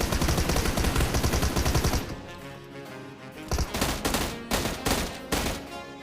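Rapid automatic gunfire in a shooting video game fight, dense bursts for the first two seconds, then a short lull and several more clusters of loud, close shots.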